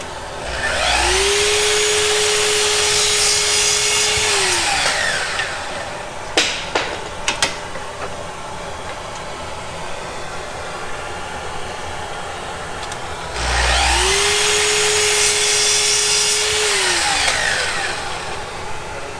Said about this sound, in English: And I'm going to do that over on the chop saw.